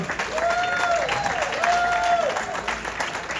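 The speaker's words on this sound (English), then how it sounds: "we all should give another round of applause to John" Steady audience applause at a Jewish music festival award event, a continuous wash of clapping with a faint tonal whine running beneath it.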